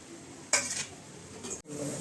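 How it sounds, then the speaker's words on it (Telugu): Grated ginger-garlic, green chillies and curry leaves are stirred in a pan, giving two short scraping, sizzling bursts of spatula against metal over a low, steady fry with no talk. "అల్లం వెల్లుల్లి తురుము, పచ్చిమిర్చి, కరివేపాకు ఇవన్నీ వేసుకొని బాగా కలుపుకోవాలి."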